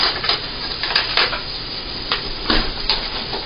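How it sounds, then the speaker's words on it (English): Onions sauteing in a pan, a steady close sizzle with scattered crackles and stirring clatters, heard alone without voices. "started sauteing some nice onions in there."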